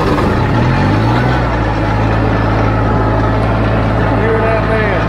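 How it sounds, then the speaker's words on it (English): A diesel lawn mower engine cranks and catches, settling into a loud, low, steady rumble close by with a rough idling texture. "Listen to this diesel crank up,"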